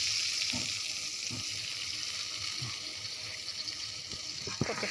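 Hilsa fish frying in hot oil with water poured into the pan, a steady broadband sizzle and bubbling hiss throughout, close and continuous, with a few soft clinks of stirring near the end.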